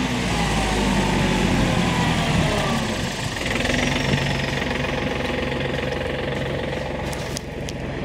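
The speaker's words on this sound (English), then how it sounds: "I hear a tractor coming." A tractor rumbles along a Montreal street on Christmas night, its steady low engine drone and knocking growing near, continuous and loud throughout with a slight shift midway.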